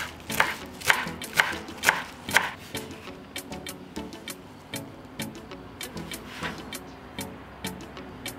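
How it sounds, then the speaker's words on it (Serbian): A knife chops a bunch of celery leaves on a cutting board in a steady series of sharp, close taps, the first few strikes heavier and the rest lighter and evenly spaced, with no voices. "I na kraju ću iseckati 1 vezu lista celera."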